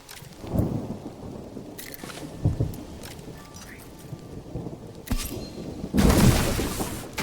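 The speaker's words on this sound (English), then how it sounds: "Was it just me, or was there like no warning to that storm?" A thunderstorm in the video game Mind Over Magic brings steady rain and several loud thunder booms and cracks, with a heavy rolling burst near the end.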